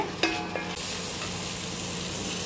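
Crushed green chili, ginger and garlic stirred in a frying pan, a few scraping clatters of the spoon early on, then a steady, close sizzle of frying carries on alone.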